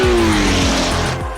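Porsche flat-eight engine in an open-top prototype race car, a loud, close, high-revving air-cooled roar with a falling pitch as it shifts through gears, alone without talk.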